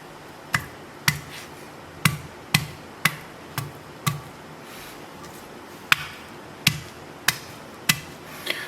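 Garlic is pounded with salt in a mortar, giving sharp, evenly spaced knocks about once a second, loud and close, with faint grinding between strikes and no talking.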